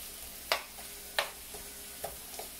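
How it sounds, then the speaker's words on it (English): Onions sauté in a pan, giving a soft steady sizzle with a few sharp stirring clicks and taps spaced through a short, quiet, close stretch without talk. "I'm just gonna saute that."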